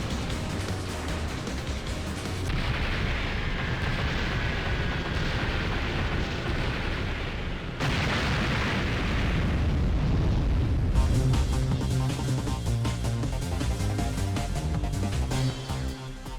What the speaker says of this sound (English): I'm gonna use my bomb there, mate.